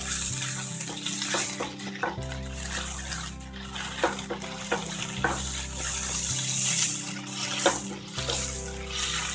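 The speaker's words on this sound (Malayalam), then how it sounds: "കുറച്ച് ഇഞ്ചി പേസ്റ്റ് അടിച്ചത് നല്ല രീതിയിൽ ഒന്ന് ഇളക്കുക" Garlic and ginger paste stirred in a hot frying pan, a steady sizzle with a spoon scraping and clicking against the metal at irregular intervals, close by and with no talking.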